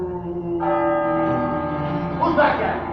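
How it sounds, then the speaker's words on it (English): A church-type bell rings repeatedly on a theatre stage during a Christmas Carol production, its sustained metallic tones filling the clip, loud and near, with some stage noise over the final moments. "Stop ringing that bell!"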